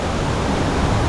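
Nyabomite waterfall in Nyanza roars as a dense, steady broadband rush of falling water, loud and close, continuous without breaks or voices.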